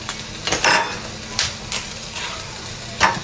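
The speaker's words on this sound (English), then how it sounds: "And now we're gonna start chopping this." Knife chopping mushroom and potato on a cutting board in a home kitchen, a few separate sharp strikes with quiet gaps between them, close and moderately loud with no talking.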